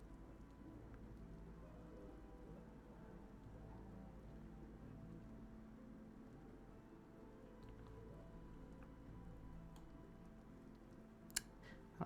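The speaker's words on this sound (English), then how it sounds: "It's still rainy, foggy, atmospheric." Rain falling in the Vintage Story video game, a soft continuous patter with a low steady hum beneath and a couple of sharp clicks near the end.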